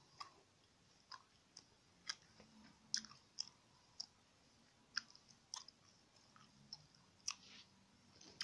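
Big Red gum being chewed up close in a quiet room, giving soft wet smacks and sharp clicks at an irregular rhythm of about one or two per second, faint and alone with no talking.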